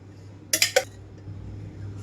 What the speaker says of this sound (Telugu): ఇక్కడైతే స్టవ్ ఆన్ చేసి పాన్ పెట్టుకున్నాను